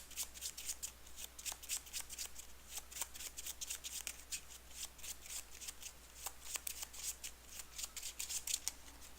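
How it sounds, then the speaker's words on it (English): A deck of cards riffled and shuffled during an Arkham Horror card game, with a steady run of crisp rapid flutters close by and no speech. "once her deck is shuffled, that's going to kill off the Lab Assistant"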